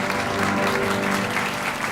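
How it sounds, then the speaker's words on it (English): A warm, fast round of applause from the crowd at a 44 Charlton cabaret and comedy show: dense, steady clapping that fills the whole short stretch at an even level. "Give a very warm, fast, quick, and loud applause."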